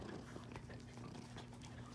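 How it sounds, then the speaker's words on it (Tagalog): Small dogs barking in a home, a thin burst of yaps repeating through the moment, moderately close and steady, with no talking over them. "Tumatahol na naman yung mga maliliit."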